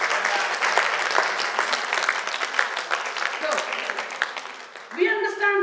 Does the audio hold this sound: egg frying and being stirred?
no